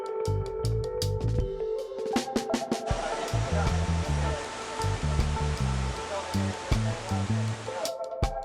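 Rushing waterfall in Tarapoto, Peru, a continuous loud roar of falling water with repeated sharp clicks and brief tonal bursts cutting through; no clear talk.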